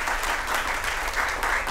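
An audience at a chamber music concert by a string orchestra gives steady, dense applause that fills the hall without a break.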